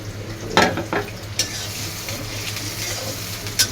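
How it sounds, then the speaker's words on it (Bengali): Chopped onion hitting hot oil for a cauliflower curry, crackling and sizzling steadily up close, with a few sharper bursts of spatter and stirring scrapes. "তেল গরম হয়ে গিয়েছে, এখন পেঁয়াজ দিয়ে দিব।"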